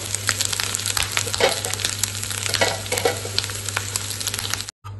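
Onion frying with grated coconut and ginger in a pan, a loud continuous sizzle with scraping stirring strokes throughout, no talking.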